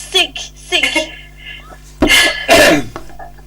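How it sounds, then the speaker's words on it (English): A man on an amateur radio net hacks through several harsh coughs in quick succession. The first bursts are shorter and more voiced, and two loud, close coughs come in the middle of the fit. "I had a bit of a coughing fit there"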